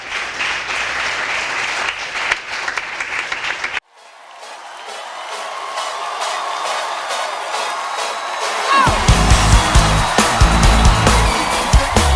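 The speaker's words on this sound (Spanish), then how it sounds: "Si va a darle un aplauso de él al Señor, un aplauso bien dado." Congregation applause at a church service: loud broadband clapping for the first few seconds, a sudden cut, then a sustained roar of crowd noise and cheering that grows louder toward the end.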